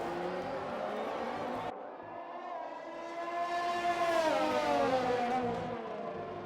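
Formula 1 race cars in a racing video game, high engine whines rising and shifting as cars battle closely, loud and continuous with faint commentary underneath.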